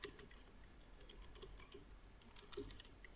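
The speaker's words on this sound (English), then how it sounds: "Now type text." Keys on a computer keyboard tapped while filling in a PDF form, a few quiet scattered clicks spread over about three seconds, faint and without talk.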